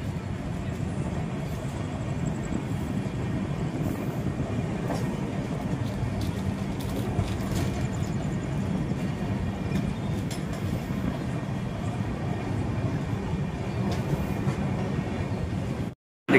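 The 18464 Prashanthi Express passenger train runs steadily on rails, giving a loud, continuous rumble with faint clickety-clack of wagons that holds throughout before cutting off abruptly at the end.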